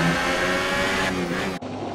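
Formula 1 cars with Renault and McLaren engines racing in F1 2018, a steady high-pitched engine whine that holds loud, then shifts pitch abruptly as the view cuts near the end.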